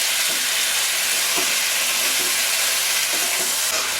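Cooked tapioca being stirred into hot ghee in a pan for kappa payasam, a steady broad hiss of frying with soft scraping stir strokes underneath, close and even throughout.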